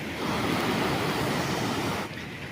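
Kangsabati river in flood, rushing close by as a loud, dense, continuous roar of water that eases slightly near the end.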